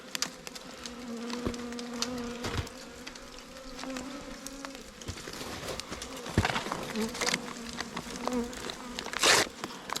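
Honey bees hum inside a cold winter hive as they cluster toward the top, a close, steady buzz with pigeon-like coos and some faint voice in the background.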